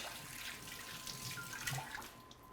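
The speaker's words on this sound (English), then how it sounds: "So, give my hands a wash." Tap water runs steadily into a sink while hands are washed in a kitchen, a soft continuous splashing stream with small bursts of dripping.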